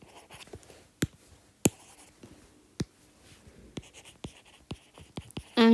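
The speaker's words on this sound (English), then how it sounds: "so I want to write it down." Pen writing down notes for an A-level circle geometry problem, with sparse, quiet scratches and distinct taps against the paper at irregular intervals in a still room.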